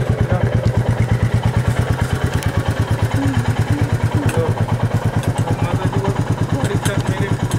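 A new Royal Enfield Meteor 350 motorcycle idles close by with a loud, steady, rapid thumping beat, while voices talk over the engine.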